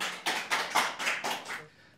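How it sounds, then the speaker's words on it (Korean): Brief applause from an audience at a Korean policy debate forum, a few seconds of scattered hand claps with distinct bursts that fade out quickly near the end. "큰 박수로 모셔주십시오."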